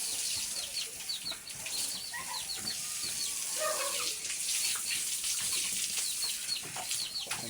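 Water splashes and pours steadily over pigs being bathed on a farm, a continuous hiss and patter with faint chicken calls in the background.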